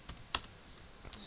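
Keyboard typing at a computer while entering a network ping command during router setup: a few scattered, quiet key clicks with pauses between them, no talking.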